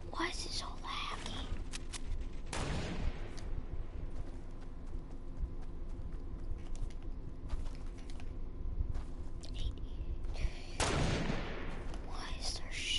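Gunfire in a video game comes as two separate sharp bursts, one early and one late, mid-distance over a constant busy game background, with soft low voices talking throughout.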